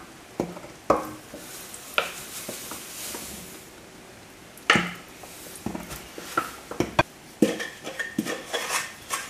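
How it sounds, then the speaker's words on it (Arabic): Flour is stirred into a bread dough mixture in a bowl, with intermittent scraping and knocking strokes that come in uneven bursts and short pauses, close and fairly clear, with no talking. "بنحط الطحين. انا بحب اضيف لها شوي شوي بحركها"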